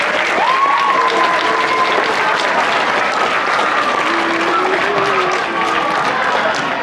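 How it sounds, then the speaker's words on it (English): Steady, loud applause from a school crowd at a Veterans Day remembrance ceremony, continuous clapping filling the room with faint voices and cheering mixed in. "Give yourselves a round of applause."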